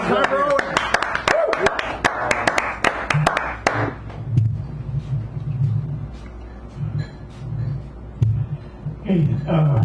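An audience at a poetry reading at Sacred Grounds Cafe in San Francisco claps in a lively burst of applause that fades after a few seconds into room hum and low murmuring voices.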